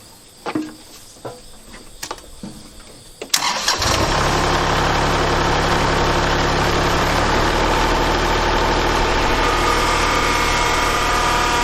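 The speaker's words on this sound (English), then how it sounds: "Just need to fire up the tractor and see if I can push it over" A few sharp mechanical clicks and knocks, then a tractor engine cranks and fires, settling into a loud, steady close-up idle that runs on without a break.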